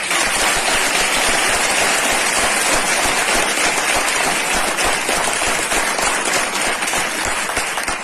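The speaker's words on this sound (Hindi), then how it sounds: "जोरदार तालियां होने चाहिए" A large crowd at a training seminar applauds loudly and steadily, a dense wash of clapping that holds at full strength throughout.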